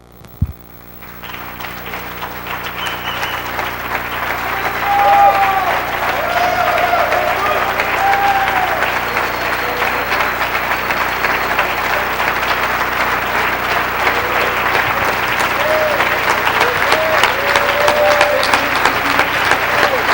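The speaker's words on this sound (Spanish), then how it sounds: "Quiero animarte que nos paremos y le demos un fuerte aplauso al Señor." Church congregation applauding together, a dense sustained wall of clapping that swells in over the first few seconds and holds loud and steady, with voices cheering faintly underneath.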